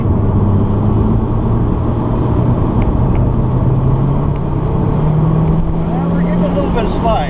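Race car engine on a wet Sonoma track during a NASA high-performance driving session, a loud steady drone rising gradually in pitch as it accelerates, close and continuous, with faint voices underneath.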